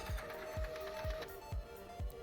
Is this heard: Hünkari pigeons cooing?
no